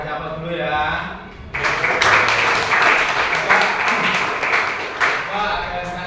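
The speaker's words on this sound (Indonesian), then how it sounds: "kasih aplaus dulu ya" Applause for a short presentation breaks out suddenly and holds as steady, moderately loud clapping from a small room of listeners for several seconds before tapering off.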